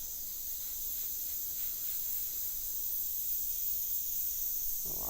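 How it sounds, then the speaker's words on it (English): An airbrush spraying water onto a napkin gives a steady, faint hiss that runs without a break, with no talking. "enough water to spray through it and spray it onto the napkin"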